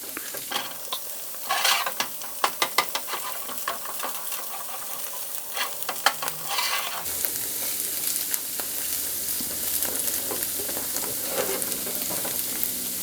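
A keto tostada fries in a pan with a steady sizzle while a spatula repeatedly scrapes and taps around its edges to loosen it, close and fairly loud, the frying hiss growing fuller toward the end.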